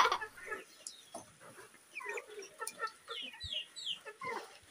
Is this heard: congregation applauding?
no